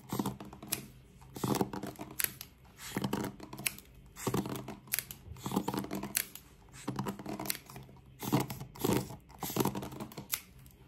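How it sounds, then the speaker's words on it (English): Scissors snipping hair during a fast, aggressive ASMR haircut, heard as dense, rapid crisp clicks and cuts very close to the microphone, continuing steadily without a break. "I'm just gonna go ahead and just brush and snip"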